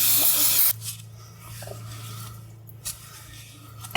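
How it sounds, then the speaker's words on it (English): A close, loud hiss of brake cleaner aerosol spray for under a second while changing differential oil, then faint scraping and handling noises over a low hum. "Don't be afraid of using the brake cleaner."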